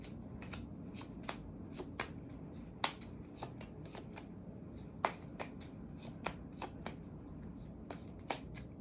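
Tarot cards are shuffled at a steady pace, giving a string of sharp riffles and light taps over a quiet low hum, with no voices.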